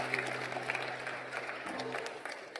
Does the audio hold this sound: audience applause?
yes